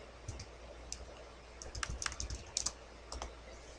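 Quiet, close clicking of keys on a computer keyboard, a short irregular burst of typing with a few louder presses.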